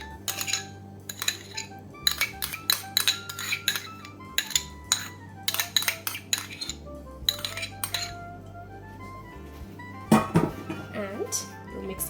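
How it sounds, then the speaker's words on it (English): A utensil stirs and mixes yogurt with salt and sugar in a pan for a steamed prawns malai curry, giving repeated close clinks and scrapes in uneven bursts over a low background hum, with one louder clank near the end. "I will add some more salt, some sugar, I will mix this entire yogurt in here."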